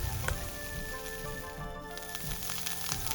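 Chopped pears sauté in melted butter with a soft, steady sizzle that stays faint and continuous throughout, with no voices over it.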